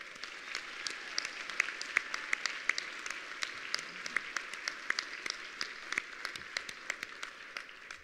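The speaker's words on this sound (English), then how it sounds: "So we just wanted to give her a quick round of applause in recognition for her birthday." A gala audience gives a quick round of applause for a mother's birthday: sparse, distinct hand claps from a modest crowd, fairly quiet and steady throughout, with no one speaking.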